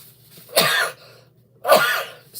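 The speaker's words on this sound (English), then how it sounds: "I'm still sniffling. Still sneezing." Two sharp, loud sneezes come close up from someone with a lingering cold, about a second apart, each a sudden burst that quickly fades.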